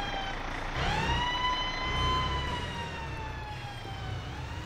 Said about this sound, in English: Another fire truck right behind you.